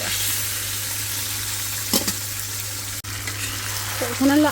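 Baila fish fries with potato, eggplant and tomato in a pan, giving a loud, steady sizzle with occasional spatula scrapes and a brief clatter at the end.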